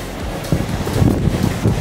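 Ocean waves on a beach at Mirissa, Sri Lanka: a loud, continuous low wash of surf mixed with wind buffeting the microphone, surging irregularly with no voices.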